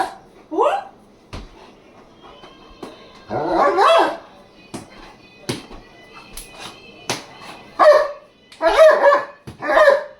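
A dog barks in several short, separate bursts, close by, with sharp clicks and pauses of quiet between the barks.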